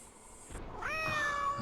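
A cat meows once in a Nancy Drew adventure game, a clear rising then falling cry at moderate loudness, heard alone after a brief softer noise.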